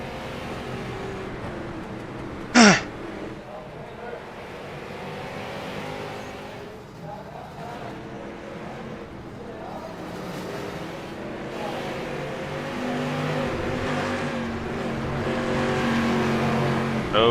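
Race cars in the iRacing simulator, on a short-track league race, drone and rev with wheel spin off a corner, a steady layered engine roar that builds toward the end, with a sharp squeal near the start.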